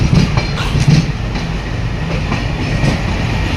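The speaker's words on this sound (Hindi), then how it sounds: "एलकेओ डीजल शेड का ये इंजन चल रहा है हमारे पैरेलल में" An LKO diesel shed locomotive running on the parallel track at a Lucknow platform, a steady loud rumble with rhythmic clickety-clack of wheels close by, without voices.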